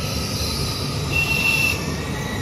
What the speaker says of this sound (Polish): Wjeżdża pociąg Express Intercity Premium z Krakowa do Gdyni.